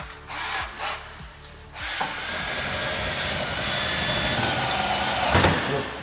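A Makita power drill boring through iron, its high whine steady and close for most of the stretch after a few brief starts, with grinding rasp under the motor.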